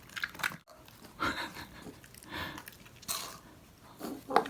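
A pet dog chewing and eating a snack up close, with soft irregular crunching and biting bursts and small gaps between mouthfuls.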